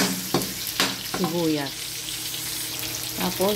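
Garlic sizzles in a hot pan for pancit canton, a steady frying hiss with a few stirring scrapes and brief voice-like tones over it.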